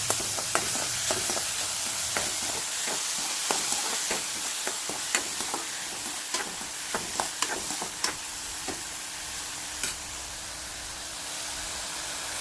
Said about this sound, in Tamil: நம்ம வெங்காயம் கருவேப்பிலை போட்டுக்கலாம்